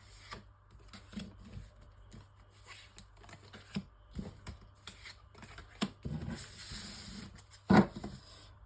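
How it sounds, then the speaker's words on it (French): Oracle cards are shuffled and drawn by hand, giving a soft, continuous patter of riffling and sliding card stock with sharper flicks near the end, close but faint, over a low steady hum. "tirage en 9 cartes avec l'oracle"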